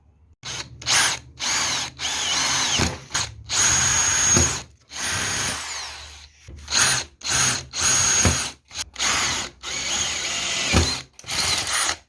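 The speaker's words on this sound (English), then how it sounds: "I'll rivet it on, so I'm going to go ahead and do that" Rivets being set to fix hinges onto an aluminium camping table, heard as a rapid series of short, loud mechanical bursts from a power tool, separated by brief silences, close to the microphone.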